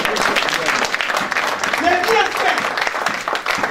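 A church congregation claps and cheers in a dense, loud burst of applause while a voice speaks over it.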